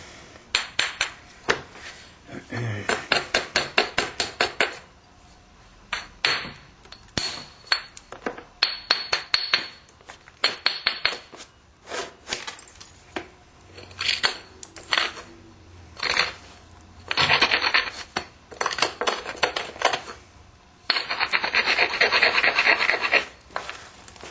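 Clovis point being flintknapped by punching flakes off stone, a series of sharp clicks and taps mixed with scraping and rubbing strokes, close and irregular, with pauses between bursts and no speech.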